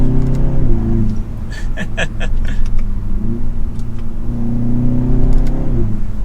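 A 2022 BMW 330i sDrive, rear-wheel drive, accelerating up to speed, its engine rising in pitch through the gears with brief shift dips, loud and close from inside the cabin, no talk.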